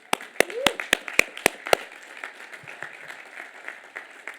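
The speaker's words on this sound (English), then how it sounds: "give yourself a quick round of applause" A few sharp, separate claps ring out at a high school graduation commencement ceremony, then fade into soft scattered clapping and murmur, with a voice briefly heard early on.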